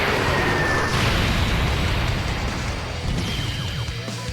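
Super 17's Electro Eclipse Bomb attack explodes in Dokkan Battle, a loud, sustained roaring blast of broadband noise that holds heavy and dense for several seconds before easing off slightly.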